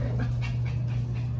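A dog pants steadily and close up, quick rhythmic breaths over a low constant hum, with no voices.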